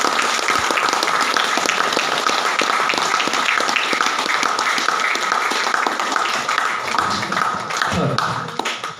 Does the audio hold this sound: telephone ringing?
no